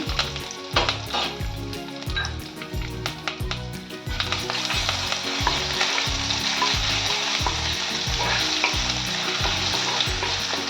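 Loud, steady sizzling of a tempering with onion in hot oil in a pan, with a rhythmic low thumping pattern underneath and a brighter, fuller hiss in the second half.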